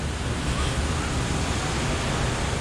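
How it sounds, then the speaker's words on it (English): Hotel water fountain splashing outdoors, a loud, continuous broadband rush of falling water with no breaks, heard up close and alone. "That's just a hotel water fountain."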